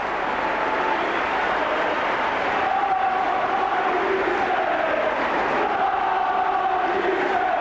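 A rugby crowd at a St Helens Saints versus Sheffield match keeps up a broad, sustained roar of cheering after a try. Shouts and chants rise from the far side of the crowd.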